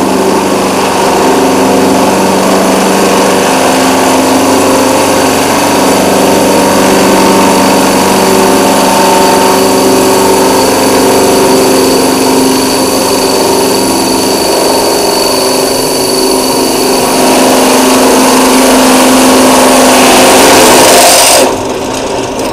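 A drill press bores holes through a 98-tooth sprocket, a steady loud motor whine with grinding cutting noise running continuously and ending abruptly near the close.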